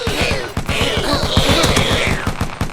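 Bursts of rapid gunfire crackle loudly and close in a video game store robbery, with overlapping shots and sharp impacts across the whole moment.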